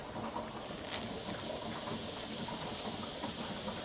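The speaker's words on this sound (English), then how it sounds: "As you can hear, there's a lot of gas coming out of this." Hydrogen gas from a 59-plate HHO generator system hisses steadily and loudly, a continuous close rushing hiss with no talk.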